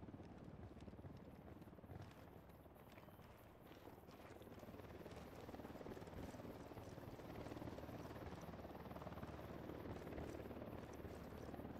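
A helicopter flies overhead in Ghost Recon Wildlands, a dense continuous rotor roar that builds slightly louder toward the end, with no speech over it.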